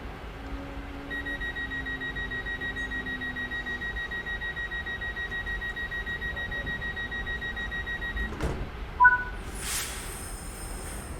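In a Birmingham Cross City Line train-driving game, a door-closing warning beeps in a steady, rapid repeating pattern over the cab's engine hum, then stops, followed by a clunk and a brief higher chime.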